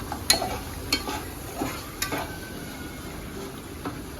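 Ghee, jaggery and coconut filling for modak being stirred in a pan: a soft, low sizzle under a few sharp scrapes and clinks of the spoon against the metal.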